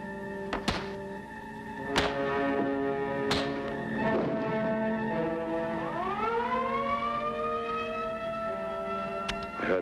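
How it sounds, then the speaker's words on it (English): A siren drones steadily and then swoops upward in pitch, with a few sharp thuds early on. "I heard the siren"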